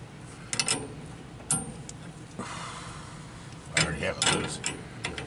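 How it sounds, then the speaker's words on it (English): Metal clicks and ratcheting from a wrench turning a bolt off a Freedom Hauler RV trailer, a series of sharp ticks in short bursts with pauses, fairly close, amid faint background noise. "It's taking off this bolt."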